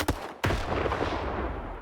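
Under-barrel grenade launcher fired in the shooter game STALKER 2: two sharp blasts, a faint one at the start and a loud one just before half a second, the second followed by a long rumbling tail that fills the rest.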